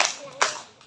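A group of children clapping their hands together during a lesson: a quick burst of claps, one sharp clap standing out clearly, fairly faint and brief, with a voice heard speaking nearby.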